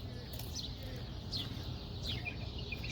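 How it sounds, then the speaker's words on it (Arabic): Sparrows chirp in short high bursts over a steady low rumble of background noise, the calls fairly faint and repeating every second or so. "عشان سمعوا صوت عصافير"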